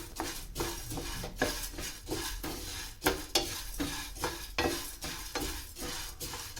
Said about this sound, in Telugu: మీడియం ఫ్లేమ్లో పెట్టుకుని మనం కలబెట్టుకుంటూ ఉండాలి